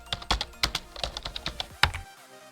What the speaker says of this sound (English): Next is installing fish terminal by typing sudo dnf install fish.